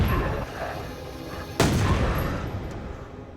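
A single sharp gunshot in a zombie film cracks out partway through, its boom ringing and decaying over a low rumbling background.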